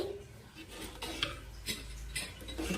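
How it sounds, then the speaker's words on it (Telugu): Soft scraping and clinking of a spoon against a pot while boiled dal is stirred together with chili powder and salt, faint and close, a few irregular strokes. "ఉడకపెట్టిన పప్పు వేసుకొని ఇలా మొత్తం కలుపుకోవాలి"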